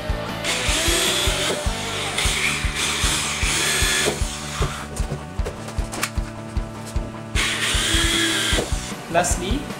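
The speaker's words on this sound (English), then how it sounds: "So we will drill." A power drill whirs in repeated bursts, boring holes through plastic for a compost bin with short pauses between holes, loud and close, with some talking in the background.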